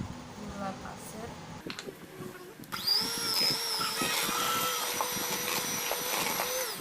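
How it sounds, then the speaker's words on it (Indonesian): Electric mixer beating butter and margarine for soft nastar cookie dough, a loud steady whine starting partway through after quieter clatter, with speech under it. "Setelah aku mixer sebentar tadi room butter sama margarinnya"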